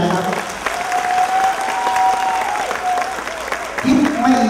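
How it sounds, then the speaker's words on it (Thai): An audience applauds a visiting associate professor at a product launch event, a steady wash of clapping that swells and holds for several seconds, with a voice talking over it near the end. "ปรบมือท่านอาจารย์นะครับ"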